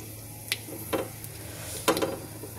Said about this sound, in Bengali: এই যে অল্প করে সর্ষে ফোড়ন দিলাম